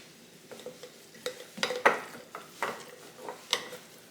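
Spoon stirring a small jar of sourdough starter, soft wet scraping and clinks in a few irregular strokes, close and quiet.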